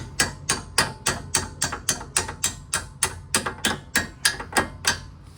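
A hammer strikes a bolt on the lower control arm of a 2005 Mustang 4.0 with a broken ball joint, a steady series of about sixteen sharp metallic blows at a regular, brisk rhythm, loud and close.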